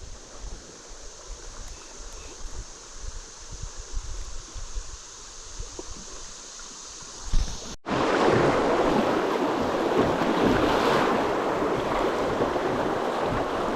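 Rapids on the Jackson River rush steadily beside a kayak, a muted flow at first, then a sudden loud, full roar of churning water that holds to the end.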